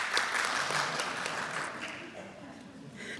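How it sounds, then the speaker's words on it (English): Applause from a seated audience at a faculty convocation, a dense wash of clapping that gradually thins, with a few voices faintly underneath. "Clapping is good."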